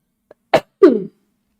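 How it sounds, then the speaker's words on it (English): A couple of short, sharp coughs very close to the microphone, loud and slightly distorted, followed by silence. "Is the sound okay when I cough almost right into the mic?"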